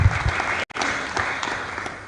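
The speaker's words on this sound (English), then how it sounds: "Another round of applause for the chairperson" A seated audience at a public function claps for the chairperson, moderate sustained applause with a brief sharp cut partway through before the clapping resumes.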